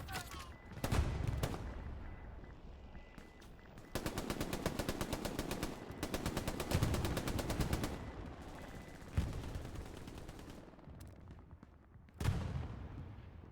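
Sustained gunfire in the video game Hell Let Loose during a competitive match: dense bursts of machine-gun fire with scattered single shots and distant booms, loud and continuous across the battle scene.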